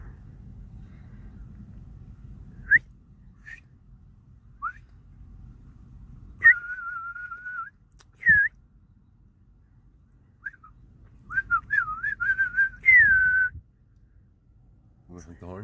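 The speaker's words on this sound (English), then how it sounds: "I could whistle." A person whistles outdoors in short, separate tones, then a held whistle and a warbling run, over a faint low rumble, with brief voices between.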